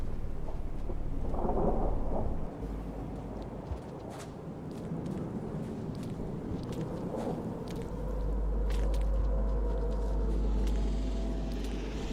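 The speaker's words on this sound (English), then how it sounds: "Thunder, yep. Very thunder here." Low rolling thunder rumbles under steady rain ambience in the video game Rain World. It swells and fades over several seconds, deep and fairly loud, with occasional sharper cracks and no talk.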